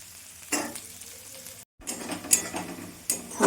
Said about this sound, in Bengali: পেঁয়াজটা আমি এখন লাল লাল করে ভেজে নেব।